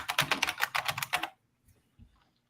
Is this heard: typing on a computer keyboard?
yes